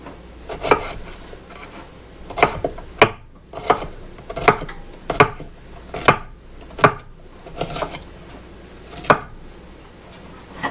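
Knife chopping ingredients for homemade pesto on a cutting board: a dozen or so crisp, close taps in uneven bursts, with short pauses between groups and no talking.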